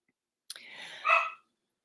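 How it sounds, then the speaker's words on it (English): A dog gives a single short, close bark that rises into a yelp, isolated against silence. "But then, that's my dog."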